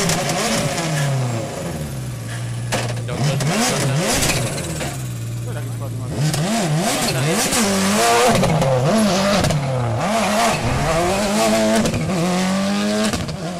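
A WRC rally car on a stage at Rally Haspengouw 2012 revs hard through repeated gear changes and throttle lifts, engine loud and close, with a commentator talking over it.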